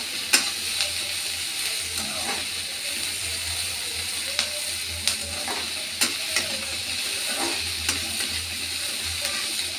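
Onions browning with tomatoes in a pan for shahi paneer, frying with a steady close sizzle while a utensil scrapes and clicks in repeated stirring strokes through the clip, no voices.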